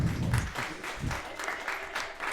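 Live audience at a podcast taping clapping and cheering, a loose burst of applause with a few whoops, moderately near and steady through the short stretch.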